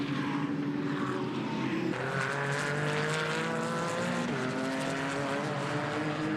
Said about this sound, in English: Now, this car here is Tom Rawlings, running way down through the order.